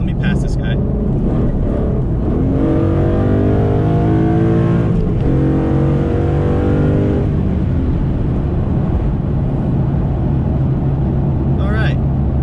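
Car engine roaring and climbing in pitch as it accelerates to overtake another car on the road, loud and close from inside the cabin, with a driver talking over it.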